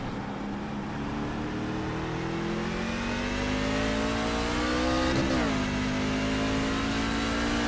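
A race car engine drones loud and steady during a race, its pitch climbing slowly under acceleration. Partway through it dips briefly, as if shifting gear, then holds a sustained, close, unbroken roar with no voices.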